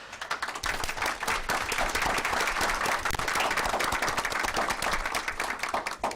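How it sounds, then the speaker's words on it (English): A board meeting audience applauds, with dense, continuous clapping that is moderately loud and fairly close and holds steady throughout. "So we're going to be clapping multiple times for you guys today."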